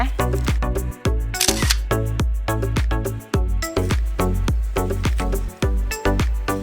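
Camera shutter clicks repeating rapidly in bursts while snapping photos on a visit to a farm, crisp and close, with brief pauses between runs of shots.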